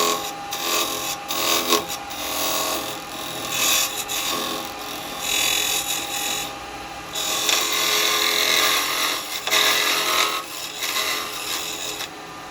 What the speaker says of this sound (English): I'm going to continue that hollowing now